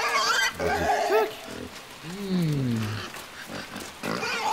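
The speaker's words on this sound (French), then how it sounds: "Oh le cochon." Low grunting pig calls from a creature in the video game Inside, several rough descending grunts in the middle, moderately loud, with a person's voice talking around them.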